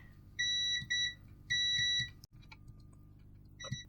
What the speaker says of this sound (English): Multimeter and continuity.